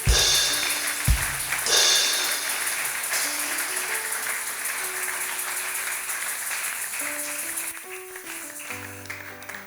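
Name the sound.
church congregation applauding to acclaim the Lord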